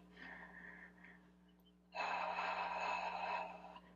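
During a classic Pilates mat exercise, a person takes a deep breath, a soft, close inhale followed by a louder, longer breathy exhale with no talking.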